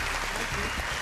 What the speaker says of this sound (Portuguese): Salva de palmas para a professora.